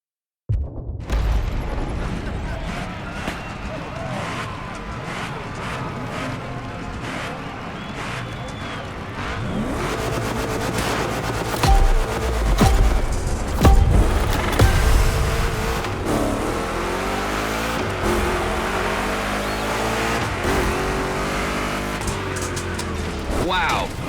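Two big-block Chevrolet cars race in The Crew Motorfest. Engines rev and roar continuously, building to louder, gritty acceleration and passes partway through, with a commentator speaking over the top.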